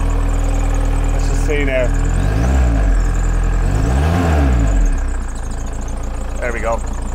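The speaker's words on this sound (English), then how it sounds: "Why exactly it's idling like a generator, I'm not entirely sure." A 1987 VW Camper engine with oil, fuel and coolant leaks and some exhaust smoke idles with a steady generator-like drone and revs up twice in rising and falling sweeps, while someone talks over it.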